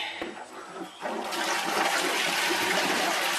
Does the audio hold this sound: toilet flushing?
yes